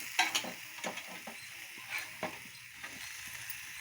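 Raw mango pieces are stirred in an oil tempering with salt and turmeric. Several light scraping strokes fall over a faint frying sizzle, close but quiet, with no talking.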